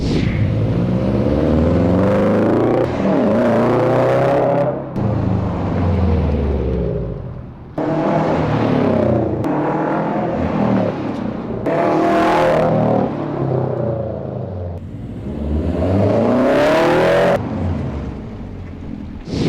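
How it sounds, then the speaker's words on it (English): A Subaru WRX accelerating and braking repeatedly from about 45 down to 10 mph while bedding in new brake pads, with the engine revving up and falling away in a rhythmic series of surges heard from inside the car. "we're going to do about 10 to 20 more aggressive stops, also coming from 45 down to about 10 miles an hour"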